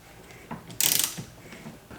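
Gear puller tightened onto a John Deere Gator steering wheel, giving a loud burst of rapid ratcheting clicks near the middle, with a few fainter clicks and clunks before and after.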